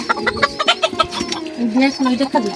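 Farm chickens cluck in quick, uneven bursts close by, several birds overlapping, with a voice talking faintly underneath.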